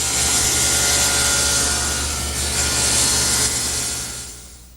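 Wood board ripped on a table saw while building an armoire entertainment center, a loud steady roaring whine of blade through wood that holds for several seconds and then tapers off.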